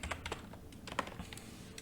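A computer keyboard typed on quickly to enter a coin name into a search field on CoinMarketCap, a steady run of close, crisp keystrokes with uneven spacing and no one speaking.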